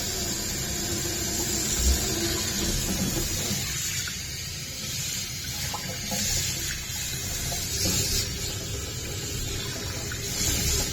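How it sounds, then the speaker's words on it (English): Hot water runs steadily into a sink, rinsing Pink Stuff cleaning paste off its surface, a continuous broadband splashing rush heard close up with small shifts in flow. "it just says to rinse off with hot water"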